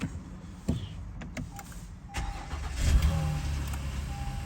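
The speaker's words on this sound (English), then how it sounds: "And we should be able to start this vehicle." A 2019 Acura TLX's engine cranks and starts after the ignition is switched on, rising into a steady idle with some faint mechanical clicks and whirs inside the car.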